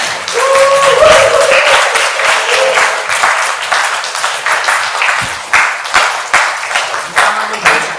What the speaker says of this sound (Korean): Let's do a big hand for them